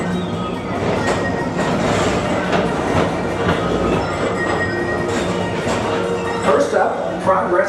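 The Magic Kingdom PeopleMover ride train rolls steadily along its elevated track in a continuous, even rumble with faint clicks, while narration talks over it throughout.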